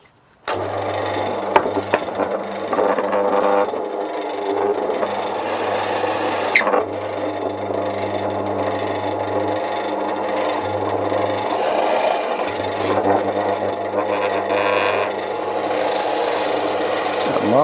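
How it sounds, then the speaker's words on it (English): A drill bores plug holes into a timber board for a footstool, giving a steady, continuous grinding rasp with a low machine hum underneath, close and fairly loud throughout. "I'm going to go over to the drill and I'm going to drill holes that are going to be big enough to take the plugs"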